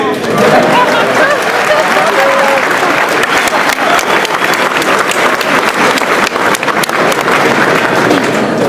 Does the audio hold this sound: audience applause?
yes